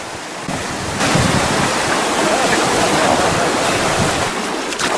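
Rushing river rapids on the Nahanni in the Northwest Territories during a rafting trip, a loud, steady broadband roar of churning whitewater close by, with wind buffeting the microphone and no talk.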